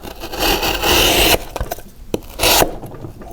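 QSP Piglet knife with a 3.5 mm thick blade cutting on a cutting board, a burst of scraping, rasping strokes followed by sharp taps and another short scrape, close and fairly loud.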